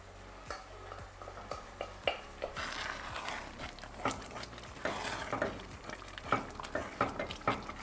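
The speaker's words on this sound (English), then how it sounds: "I'm going to add my mushrooms." Mushrooms are tipped into a pan of mushroom and sage risotto and stirred, producing quiet close scraping, soft sizzling and scattered light knocks against the pan over several seconds.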